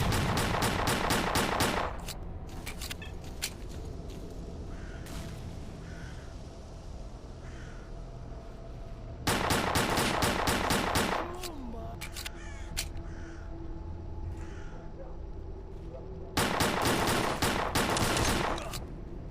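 Gunfire in the video game STALKER: Clear Sky, three loud bursts of rapid automatic shots separated by quieter stretches of ambient game noise and occasional single shots.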